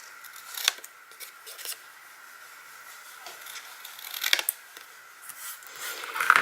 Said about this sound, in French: je vais couper avec mon ciseau, tout simplement